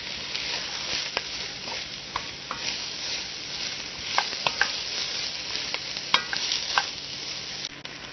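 Red pepper sautéing in a hot pan gives a steady soft sizzle, broken by scattered clicks and scrapes from a stirring utensil, close and continuous.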